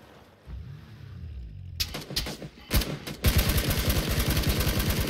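Gunfire in PUBG: a few sharp shots at first, then a sustained loud burst of rapid automatic fire that runs to the end, close and dominant.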